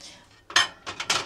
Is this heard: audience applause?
no